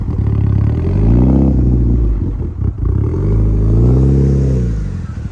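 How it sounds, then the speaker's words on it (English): Mitsubishi Evo engine with choppy cams, rumbling at idle and rising and falling in loping revs with a lumpy, uneven beat, loud and close with no talk. "hear the sound of those cams, bruh. I think one of the better sounding choppy Evos out here."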